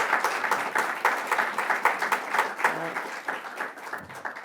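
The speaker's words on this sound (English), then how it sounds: "give our Commissioner of the Office of Mental Health a huge round of applause" An audience at a government announcement gives a round of applause, a moderately sized crowd clapping with distinct individual claps audible, some voices mixed in underneath.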